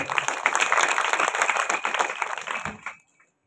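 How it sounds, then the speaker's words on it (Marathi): An audience at a devotional kirtan gathering claps loudly for the children, a dense burst of applause lasting about three seconds before cutting off into silence. "एकदा जोरदार टाळ्या होऊन जाते मुलांसाठी।"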